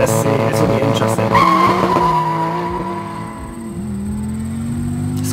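Dodge Viper and Porsche 911 GT3 RS launching in a drag race, loud engine revs rising with tire squeal and skidding at the start, then engine note fading as the cars pull away.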